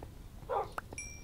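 A dog in the video game Minecraft gives a short bark and a brief yip close by, over a low background hum, with a bright chime trailing after.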